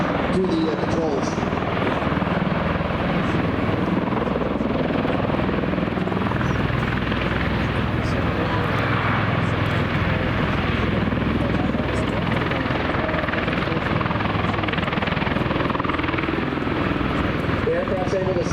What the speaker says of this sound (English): The aircraft's able to slide left to right there simply by changing the amount of power it's putting into each of those engines and tilting the rotors